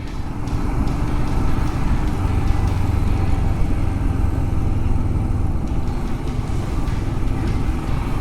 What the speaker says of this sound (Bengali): royal Enfield Thunderbird